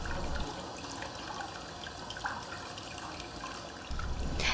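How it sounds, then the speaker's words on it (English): Cool water runs steadily into a denture cup, a continuous close trickling and gushing with a slight surge toward the end. "The aide places it in the denture cup and fills the cup with cool water until both dentures are wet"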